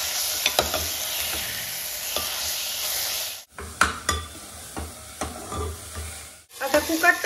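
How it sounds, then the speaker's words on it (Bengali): Garlic and ginger paste fries in hot oil for a mutton curry, giving a steady close sizzle broken by repeated spoon scrapes and stirring clinks, with two brief quiet gaps. "এই পর্যায়েতেই আমি রসুন আর আদার পেস্টটা দিয়ে দিচ্ছি।"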